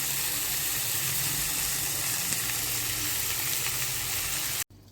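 Chopped vegetables and fresh coriander sautéing in oil in a kadai, a steady close sizzle that runs without a break for nearly five seconds and then cuts off suddenly.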